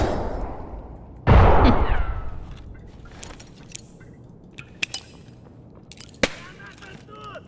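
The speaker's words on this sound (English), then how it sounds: "I'm throwing a grenade down there." A grenade explodes in the Escape from Tarkov Factory map, a loud low boom with a long rumbling tail, followed by scattered sharp clicks and distant pops, with faint talk in the background.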